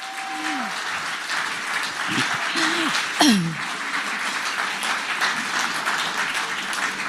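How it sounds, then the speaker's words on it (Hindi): Loud, sustained applause from the audience at a News 24 Manthan 2025 gathering fills the hall, with a few brief tonal calls standing out early in the ovation. "एक बार फिर जोरदार तालियों के साथ स्वागत कीजिए"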